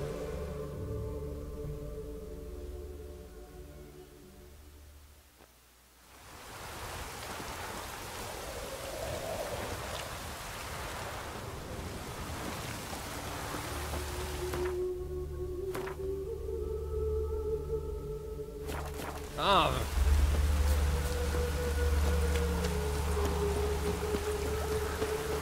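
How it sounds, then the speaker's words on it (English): Steady rain in The Witcher 3 game world, a broad hiss of falling drops layered with low game ambience and a deep rumble that swells partway through; no talking. "Rain again."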